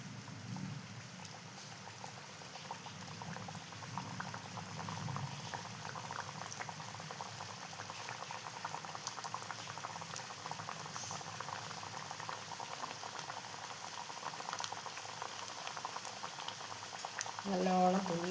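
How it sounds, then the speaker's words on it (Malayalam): Parippu vada lentil fritters frying in bubbling hot oil, a steady crackling, hissing boil with many fine pops close by that grows slightly louder near the end, with no talk. "നല്ലോണം തുള്ളി തിളക്കുന്നുണ്ട്."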